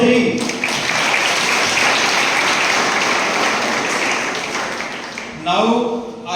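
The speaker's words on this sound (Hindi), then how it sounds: "एक बार जोरदार तालियां बजाएं तो सही।" An audience at a parenting seminar applauds loudly and continuously in a dense, even wash of clapping, with a voice speaking briefly at the start and end.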